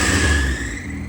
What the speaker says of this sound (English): let's not rev it though, Teggy.